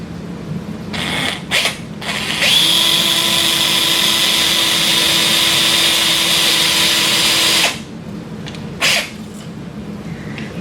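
A 3.2mm surgical drill bores into the base of the second metacarpal of a Sawbones bone model during wrist arthroplasty, a steady high-pitched whine held for about five seconds with brief motor bursts before and after, close and loud.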